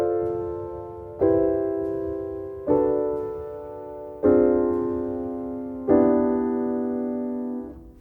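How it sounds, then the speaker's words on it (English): Piano block chords played with the right hand in a jazz style, five rich sustained chords struck one after another about every one and a half seconds, each ringing and slowly decaying, close and alone. "These are just examples of block chords that you can play only using your right hand."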